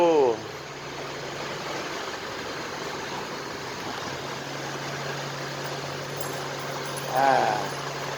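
A stock Isuzu D-Max 2.5 idles through an exhaust with a single rear muffler. The low, steady engine drone holds up close, with a brief rev swell near the end.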